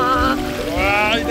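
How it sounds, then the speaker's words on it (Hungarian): A water wave surging and pouring in a brief, loud rush, with excited voices calling out over it. "És jött a hullám."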